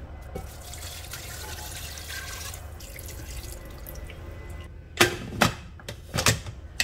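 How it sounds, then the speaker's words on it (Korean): Mackerel fish broth poured into a pot gives a continuous soft liquid rush, followed by a few louder, close splashes and sloshes toward the end. "여기다가 이 육수를 부어주세요."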